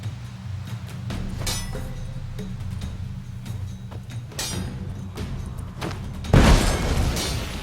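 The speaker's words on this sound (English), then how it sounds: "Throw a bomb." A bomb bursts in The Witcher 3, a sudden loud boom near the end that follows several faint thuds and soft clatter, with no voices during the blast.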